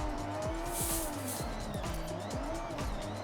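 Tires squeal in rising and falling sweeps as a car drifts on the handbrake in Forza Horizon 6, with the engine droning loudly underneath throughout a short, continuous slide.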